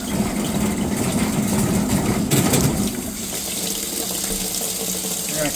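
Hot water runs steadily from a tap into a basement laundry sink, a loud continuous splashing rush that holds for the whole stretch, easing slightly partway through.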